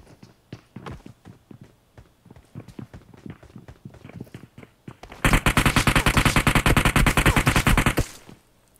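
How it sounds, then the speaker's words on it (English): Gunfire in the mobile battle royale game PUBG Mobile: scattered single shots and footstep-like taps at first, then a loud sustained burst of rapid automatic fire for about three seconds, close and dominant. "See, I'm already getting shot at."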